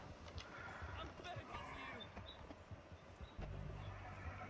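Hoofbeats of a horse galloping through snow thud steadily under a busy soundscape in the video game Red Dead Redemption 2, with a low rumble swelling near the end.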